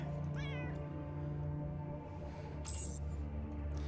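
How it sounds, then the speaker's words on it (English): A cat in the video game Underrail lets out one short wavering meow over a steady low ambient drone, followed a moment later by a brief bright chime. "I hear a cat."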